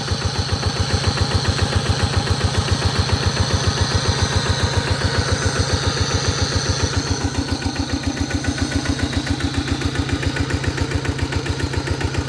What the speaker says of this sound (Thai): มันมีเสียงอยู่ข้างในปั๊มนี่ไม่รู้ว่าเป็นไรลูกปืนแตกหรือเปล่า